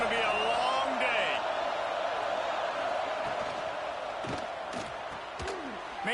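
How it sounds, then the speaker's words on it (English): Roaring stadium crowd at an Oregon vs Indiana college football game, a sustained loud wash of cheering with a few sharp whistles and a broadcaster's voice on top. "This crowd, full throat, spreading the eardrums and letting them know it's going to be a long day."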